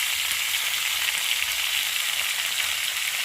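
Cauliflower florets frying in oil in a pan, a steady close hiss of sizzling oil running unbroken throughout with no other sounds.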